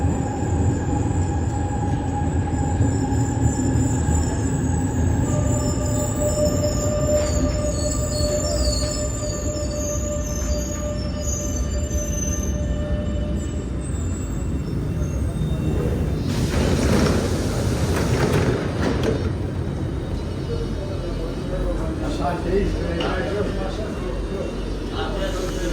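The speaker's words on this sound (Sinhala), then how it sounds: "ආපු ගමන් මෙට්‍රෝ එක ආවා නැග්ගා ගියා ඉතින්" A Milan M2 metro train carries riders with a loud continuous rumble and rattle, faint squealing tones from the wheels, and a rising roar partway through. Voices are heard at times over the train noise.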